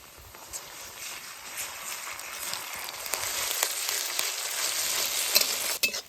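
Chopped onions frying lightly in a pan, a bright steady sizzle that builds gradually, broken by occasional stirring scrapes and a couple of sharper clacks near the end.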